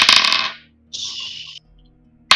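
Dice clatter and rattle across a hard surface in a short burst during a tabletop role-playing session, a crisp close rolling sound between moments of quiet.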